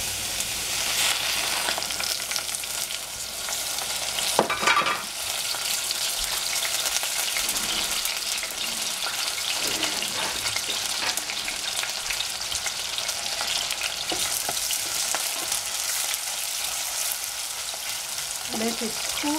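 Cauliflower and squash fry in cooking oil, a steady, loud crackling sizzle that runs throughout with occasional stirring clatters and scrapes, no talking.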